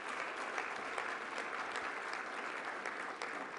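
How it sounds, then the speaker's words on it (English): Sustained audience applause at an awards event, steady dense clapping throughout, moderately distant and even in level with no talk over it. "that deserves a major applause"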